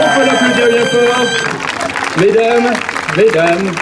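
A crowd claps loudly and continuously for a contestant at an outdoor competition at the Saint Loup 2024 festival in La Turballe, while a strong voice rises above the dense applause.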